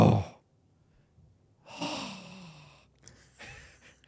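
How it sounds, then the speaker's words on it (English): A person breathes heavily, with a sharp loud exhale at the start, then after a pause a long rasping sigh and a couple of shorter breaths, close to the listener with no speech. "Are you breathing heavy?"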